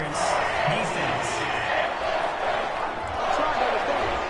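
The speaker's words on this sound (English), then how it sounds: "This home crowd, they're happy with that call." A home stadium crowd in a football video game roars and cheers steadily in the background beneath a commentator's voice.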